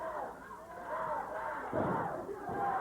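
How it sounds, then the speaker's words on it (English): A 1994 USWA wrestling arena crowd chants in the distance, a faint, rhythmic swell of many voices that rises midway and again near the end, heard beneath a commentator's talk. "Go, Brian, go, says the crowd."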